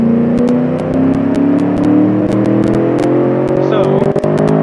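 A drag truck in the BeamNG driving game holds a loud, steady engine drone with slowly rising pitch as it pushes toward top speed, with faint clicks and a brief dip near the end.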